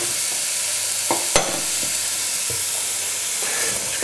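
Chopped onions and leeks gently frying in oil in a pot, a steady soft sizzle with a few sharp clicks and knocks of a utensil moving them around.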